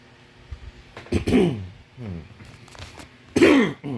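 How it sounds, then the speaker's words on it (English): A few harsh throat-clearing coughs come in bursts, close up, separated by quiet pauses with faint background sound. "That's why I was coughing a lot."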